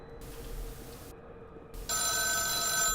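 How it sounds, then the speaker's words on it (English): A telephone rings in the video game The Town of Light with a bright, sustained electronic tone that starts abruptly partway through, loud and close, following a quieter stretch with an intermittent high hum. "There's a phone ringing."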